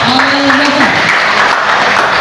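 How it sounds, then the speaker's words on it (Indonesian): Audience applause at an anniversary thanksgiving evening event for the Gepenta group, a dense, steady wash of clapping that fills the whole moment, with a voice rising and falling briefly above it near the start. "Tepuk tangan semua."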